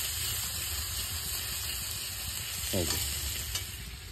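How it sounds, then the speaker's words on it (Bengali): Chopped garlic sizzles as it is dropped into hot oil in a pan, with a steady frying hiss and a brief burst of crackle partway through, close and fairly loud with no talking. "তেলটা গরম হয়ে গেছে। আর এখন আমি এই গার্লিকগুলো, দেখো গার্লিক চপগুলো ছেড়ে দেবো।"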